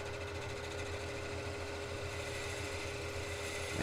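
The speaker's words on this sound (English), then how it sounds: "Sharp tools. I'm doing a push cut." Sharp gouge making a push cut on a wood lathe, turning a thick, very dry and brittle Bradford pear hardwood bowl blank, a steady humming drone with an even, continuous whirr throughout.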